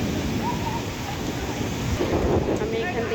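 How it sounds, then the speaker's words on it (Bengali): Heavy rain and wind in a night thunderstorm in Dhaka, a dense, loud, continuous roar of rainfall with gusty wind buffeting the microphone and a voice talking over it. "প্রচণ্ড ঝড়, বৃষ্টি, খুবই খারাপ অবস্থা।"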